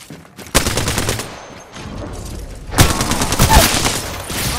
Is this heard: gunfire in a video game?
yes